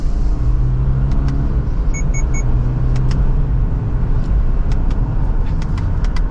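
From inside a 2025 Subaru Forester Limited with a CVT, accelerating from second gear, a loud, steady engine and road rumble drones throughout, with faint light ticks from the cabin and no talking.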